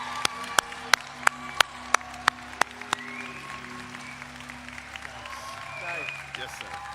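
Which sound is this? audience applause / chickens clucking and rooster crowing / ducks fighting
audience applause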